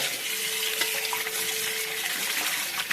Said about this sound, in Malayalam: മല്ലിപ്പൊടി ഞാനൊന്ന് വറക്കും കേട്ടോ